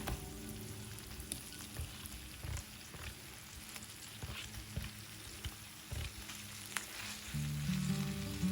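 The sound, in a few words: tomato pieces frying with onions in a pan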